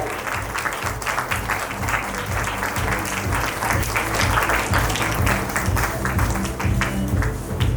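At an award ceremony, an audience breaks into sustained applause, dense steady clapping from many hands that carries on throughout without a break.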